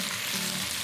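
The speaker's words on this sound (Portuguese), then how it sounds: "Aí eu dou uma virada na panela." Seasoned food with crushed red pepper frying in a pan, a steady dense sizzle as the pan contents are turned, close and unbroken without talk.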